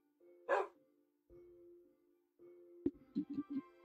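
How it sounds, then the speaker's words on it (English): A dog barks once, fairly close, then a few more quick, clipped barks follow near the end, all over a steady low electronic hum with no speech. "I can hear a dog."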